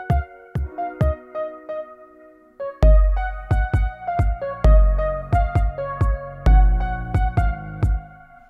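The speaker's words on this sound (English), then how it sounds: "So I'm actually going to have this portion of the region fade in." A song region in Logic Pro X fades in under volume automation: sparse plucked, piano-like notes open quietly, then fuller music with strong bass hits enters around the third second and carries on steadily, with no talking.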